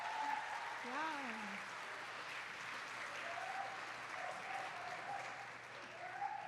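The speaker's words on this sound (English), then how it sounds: "can we have another round of applause?" Audience applause fills a college event hall steadily from start to finish, a dense wash of clapping with cheering voices rising over it near the beginning.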